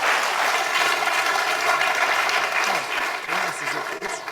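Audience applause at a community centre meeting, a dense sustained wash of clapping throughout, loud and close, with a voice briefly breaking through near the end.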